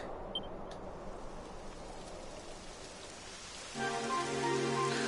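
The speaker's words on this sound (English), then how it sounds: "It would have to go and start raining, wouldn't it?" Steady hiss of rainfall in Dragon Quest XI on PS4 Pro throughout, growing louder near the end as a low droning tone and ambient music swell in beneath it.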